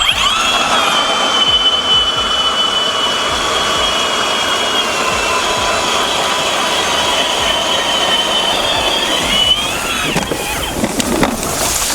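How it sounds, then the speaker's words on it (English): A loud, steady engine roar with a high mechanical whine as a Strikemaster Maven 10-inch composite gas auger drills through ice, running continuously for about ten seconds before shifting near the end. "this is my first impressions of the Strikemaster Maven 10-inch composite auger. Let's drill a hole."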